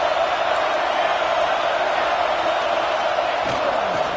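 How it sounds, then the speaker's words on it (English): A large football stadium crowd roars in a steady, dense wall of cheering and noise early in a game, loud and continuous throughout with no distinct individual voices standing out. "Listen to the crowd energy here in the early going"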